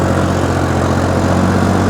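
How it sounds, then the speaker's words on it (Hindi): A Sonalika DI tractor engine runs continuously, a loud, close, steady diesel chug with a low, even pulsing throb and no break or voice over it. "ट्रैक्टर चल रहा है कंटिन्यू"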